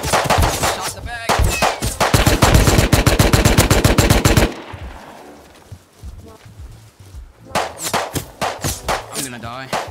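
Rapid automatic gunfire in a video game airdrop fight, loud bursts of closely spaced shots for several seconds, a brief lull with softer movement, then more shots; voices talk over parts of it.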